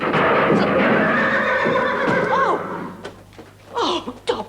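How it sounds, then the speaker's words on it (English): A sick horse whinnies loudly and long, its neigh wavering up and down, followed by a few quieter snorts and hoof knocks. "A sick horse."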